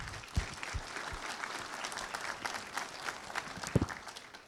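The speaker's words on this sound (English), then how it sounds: "Give these guys a round of applause" Audience at a produce workshop applauding, a dense, steady spread of clapping with a few sharper nearby claps, fairly quiet and even throughout.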